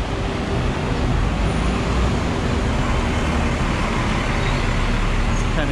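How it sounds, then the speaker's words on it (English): Steady traffic roar from a four-lane avenue in Macau, a dense continuous wash of passing cars, buses and trucks heard close by and loud, with no clear gaps between vehicles. "So you can definitely hear the traffic"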